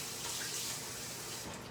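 Kitchen tap running steadily to wet hands while making sourdough, a continuous close hiss of flowing water at even loudness with no voices.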